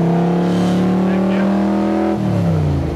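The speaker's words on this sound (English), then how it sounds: "I keep scaring people out of the way with the exhaust note." A loud replica sports car drives with a deep, steady exhaust drone. The engine note holds close and strong, then shifts pitch lower partway through.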